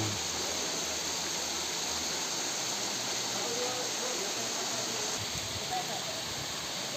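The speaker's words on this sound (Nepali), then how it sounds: "अर्को झर्ना भेटियो तर उच्च रहेछ" A tall waterfall on a forest stream in a Nepali village, running low in the dry season, gives a constant, even roar of falling water with no pauses.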